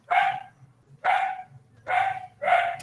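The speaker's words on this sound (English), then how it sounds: "we can hear you, dog" A dog barks four times in a steady, evenly spaced rhythm, each bark sharp and fairly close, heard alone over a quiet background on a video call.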